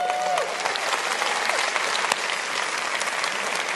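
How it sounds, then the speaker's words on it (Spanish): An audience at a church gathering breaks into a burst of steady, full clapping that carries on evenly for several seconds, with no voices over it. "Denles un buen aplauso."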